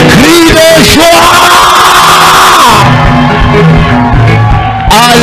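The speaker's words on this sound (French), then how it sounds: "Est-ce que tu peux me donner des cris de joie?" Inside a church, a crowd shouts loud, joyful cries and whoops that overlap in a dense, continuous roar, with raised voices rising and falling throughout.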